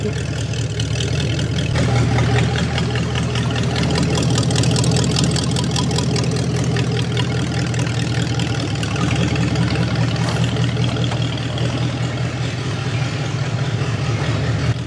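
A rebuilt Ford 289 V8 pulled from a junkyard after sitting for over 45 years runs on a dyno with a loud, steady, low rumbling idle that holds continuously and evenly throughout.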